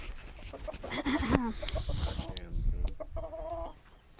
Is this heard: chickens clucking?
yes